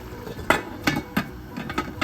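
A lid goes onto a pot of simmering Nigerian egusi soup with a few sharp metallic clanks and clinks spread over two seconds, close by in a home kitchen.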